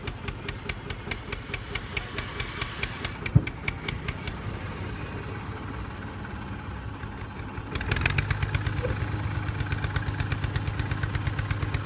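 A tractor engine chugs steadily in a fast, even knock as it heads down a steep canal bank, close and fairly loud, its pulse growing heavier and stronger partway through.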